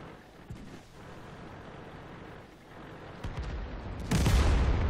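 SPG self-propelled artillery gun firing in World of Tanks, a deep booming shot that erupts loudly near the end after a stretch of low rumbling battle ambience with scattered distant bangs.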